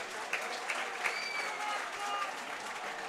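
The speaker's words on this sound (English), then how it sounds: "Very pleased to hear the crowd, despite being 2-0 down here, are getting behind the Spartans as Patterson swings in." Supporters at a Blyth versus Morpeth football match applaud steadily in a continuous patter of clapping, mixed with scattered cheers and heard a little distant beneath a commentator's voice.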